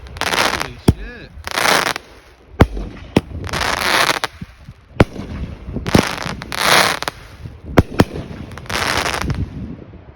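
Many different fireworks and firecrackers go off outdoors in a long run of loud, sharp bangs and crackling bursts with hissing tails, some rapid like a multi-shot cake, while voices call out in between.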